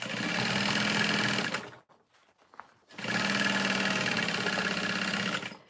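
A sewing machine stitches a tote bag seam at a long stitch length, running in two loud close bursts separated by a brief quiet pause.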